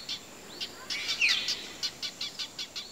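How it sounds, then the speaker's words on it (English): Forest land birds sing on Principe island: a burst of bright, high chirps and trills gives way to a steady run of short repeated calls, moderately close and clear, with no voices. "The rhythm of the bird songs is now one of courtship"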